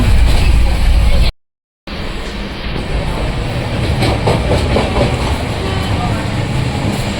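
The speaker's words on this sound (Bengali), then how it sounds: "ট্রেনের স্পিড কিন্তু খুবই কম" Steady low rumble of a train rolling along at low speed, continuous and fairly loud after a brief dropout near the start.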